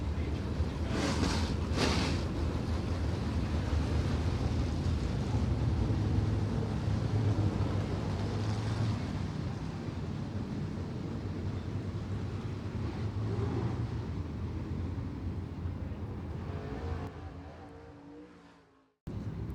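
Dirt late model race cars roll down the front stretch at Merritt Speedway before a feature race, a steady broad engine roar that stays loud throughout and drops away sharply near the end.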